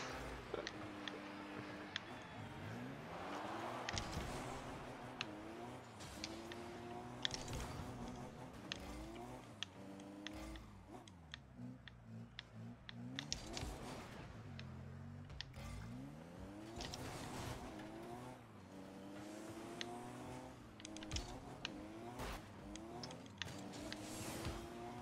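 Car engines rev and surge continuously in Rocket League, with rising and falling pitch sweeps from several vehicles layered over steady game noise, fairly loud throughout with no talk.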